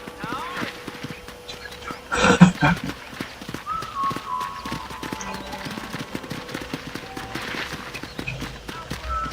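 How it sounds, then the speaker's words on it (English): Horse hooves in the video game Red Dead Redemption clip-clop in a quick, steady rhythm beneath talking voices, with a brief loud burst of noise early on and a faint whinny. "I picked out a fine horse for you. Giddy up!"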